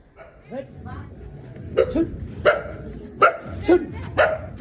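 A dog barks several times in short sharp bursts, fairly close, with voices and faint background noise between barks.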